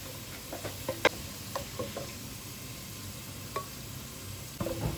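Onions browning in hot oil for biryani give a steady, fairly quiet sizzle, with scattered clicks and light scrapes of stirring rising above the crackle.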